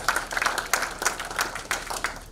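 Audience applause at a political party lawmakers' workshop, a burst of scattered hand clapping that stays moderately loud and uneven, with a few sharper claps standing out.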